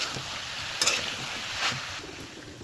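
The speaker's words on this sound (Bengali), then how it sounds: "তো পেঁয়াজ দেওয়ার পরে আমি আরও কিছুক্ষণ নেড়ে চেড়ে কষিয়ে নিচ্ছি।" Onions and beef frying in a pan, turned with a few scattered scrapes and clinks over a low, steady sizzle, close but faint, no one talking.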